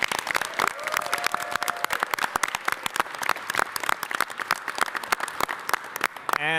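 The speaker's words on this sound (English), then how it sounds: "let's give them a big round of applause" Audience applause at a mayoral press announcement on the NYC Ferry expansion: a dense, steady wash of many hands clapping from start to finish, loud and close.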